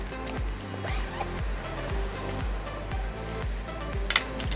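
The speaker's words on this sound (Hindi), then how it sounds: "पॉकेट जिप भी है इसमें।" A jacket pocket zipper on a wholesale-market jacket is pulled repeatedly, giving a run of short, close rasping strokes in a steady rhythm over a low background hum.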